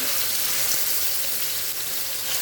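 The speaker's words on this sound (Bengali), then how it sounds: "এখন আমি এগুলো ভেজে নিব।" Chicken pieces for morog polao fry in hot oil, giving a steady, close, broadband sizzle that holds level throughout with no voices over it.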